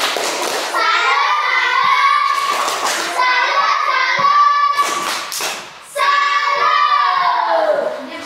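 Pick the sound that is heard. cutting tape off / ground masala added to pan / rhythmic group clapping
rhythmic group clapping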